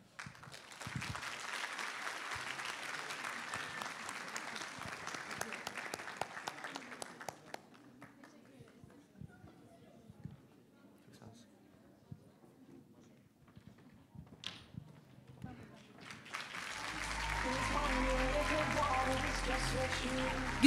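An audience at a university fashion show applauds the models, loud clapping at the start that fades into quieter scattered claps and murmurs, then swells again into strong applause with a low rumble toward the end.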